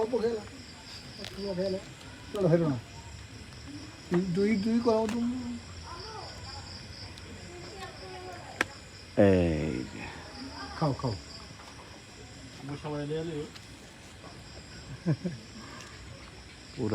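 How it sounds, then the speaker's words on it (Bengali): In a village in Bikrampur, crickets keep up a steady, high, continuous chirring in the background while people talk and call out over it. "গ্রামে যে ঝিঝি ঝিঝি সাউন্ড সব কিছু মিলে আমি রিয়েল সাউন্ডটাই শোনাতে চাই"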